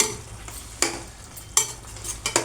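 Sago pearls being stirred into a pot of kheer, giving a few distinct scraping, sloshing stirs at a steady pace, close and fairly quiet, with no talking.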